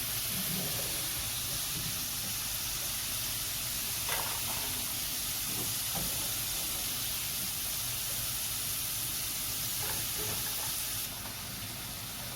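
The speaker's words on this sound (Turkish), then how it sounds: "Şimdi sıcak tavaya kızarttığımız patatesleri attık." Steady sizzling hiss of fried potatoes tossed in a hot pan, continuous and close, with a few faint clatters.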